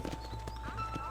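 Horse hooves clip-clop in the Red Dead Redemption video game, a steady rhythmic trot of several close, distinct hoofbeats over a humming game background.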